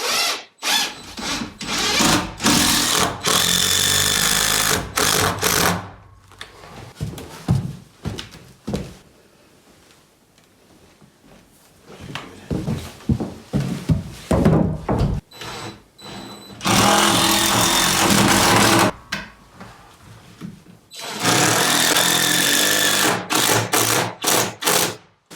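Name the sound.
power drill driving structural screws into metal hinges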